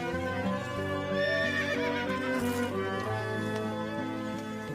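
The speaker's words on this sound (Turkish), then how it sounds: "Atlar hazır beyim." Horses whinny loudly over a rich, sustained musical backdrop, a long neigh rising mid-stretch, with faint hoof clip-clop and no talking.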